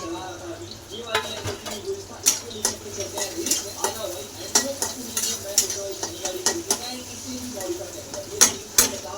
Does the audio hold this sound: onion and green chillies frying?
yes